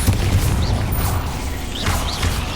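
An Incendio fire spell cast in the video game Hogwarts Legacy, a steady low rumbling roar of flame with a few brief whooshing flares, loud and continuous throughout with no talk.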